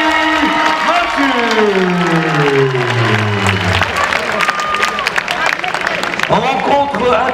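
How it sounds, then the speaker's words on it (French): Applause and crowd noise rise at a women's international boxing event between France and Italy, sitting under a loud announcer's voice and music tones that sweep down, then broken claps and cheers. "J'aimerais qu'on applaudisse très fort Anne-Sophie Matisse."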